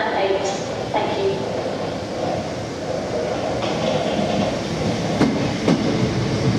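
A Class 442 electric train rumbles and clatters alongside a platform at London Victoria station, echoing in the large hall, with voices and platform announcements over the steady mechanical noise.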